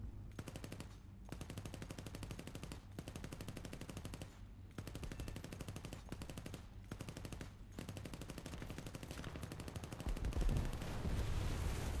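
Machine gun fire in the War Thunder flight combat game comes in long rapid bursts separated by brief pauses, loud and close, with a dull rumble rising near the end and no talking.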